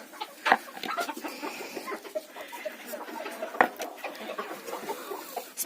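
Hens cluck steadily in a farmyard, a busy stream of short, mid-loud calls with a couple of sharper squawks standing out, recorded nearby with no talking over them.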